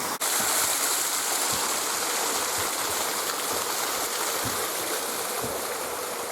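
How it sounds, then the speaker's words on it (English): Continuous rushing, splashing water from a fountain in the Alton Towers gardens pours steadily and loudly nearby, a dense, unbroken hiss with faint clicks underneath. "One of the fountains actually on, none of the other effects are on"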